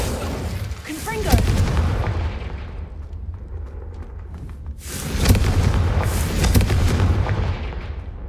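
Booming blasts from Confringo spells in Hogwarts Legacy come as heavy explosive bursts in two loud clusters, with a voice shouting spell names over the fight.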